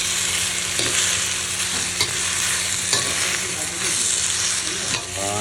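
Cut potatoes fry in hot oil with a dense, continuous sizzle throughout. A spoon scrapes and stirs them in close, with occasional sharper clicks against the pan.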